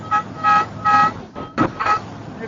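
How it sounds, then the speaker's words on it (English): Air horn sounded during a motorcycle ride to Ohio Bike Week, giving several short, loud, tonal honks in uneven bursts, close by, with a brief pause midway. "I'm gonna hit the air horn"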